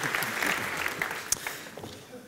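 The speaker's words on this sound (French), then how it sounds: "On peut les applaudir s'il vous plaît." An audience applauds at a live French forum event, a modest patter of clapping from the room that fades over a couple of seconds, with faint voices underneath.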